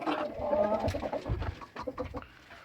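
Chickens cluck and murmur nearby in short, uneven bursts, with soft rustling between calls.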